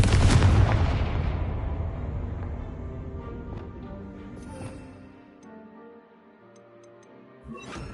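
A Confringo fire spell in a wizard video game bursts as a loud, deep explosion up front, then rumbles and crackles as it slowly fades over several seconds, with a small thud near the end.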